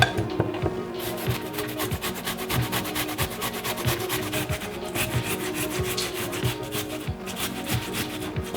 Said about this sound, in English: Get this bit of the skin off the ginger.